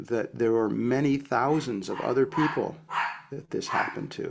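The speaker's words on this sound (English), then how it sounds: "That noise you're hearing is my dog" A dog barks and whines in the background while someone talks steadily over it, the animal's calls partly buried under the speech.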